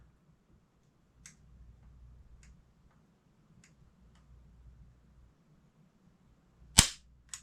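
A single sharp, loud dry-fire click from the trigger of a Simpson CG-63 military surplus target rifle, preceded by a few faint handling ticks against a quiet, low background.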